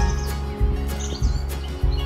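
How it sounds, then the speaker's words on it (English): A tit bird sings at a holiday resort, short repeated chirps at a regular rhythm of roughly one per half-second, clear and fairly close, with no talking. "It's definitely a tit."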